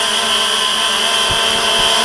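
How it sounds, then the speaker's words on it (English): A Walkera X350 Pro quadcopter hovering directly overhead gives off a loud, steady high-pitched motor whine with a constant buzzing tone throughout, close by and uninterrupted. "the only sound you can hear from this thing is from the motor whine"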